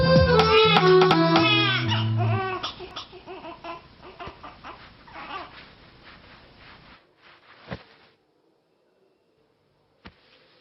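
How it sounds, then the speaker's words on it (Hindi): Infant crying in a domestic scene, loud harmonic wails at first that break into sobbing, then fade to faint sounds with a couple of sharp clicks near the end. "बच्चा रो रहा है।"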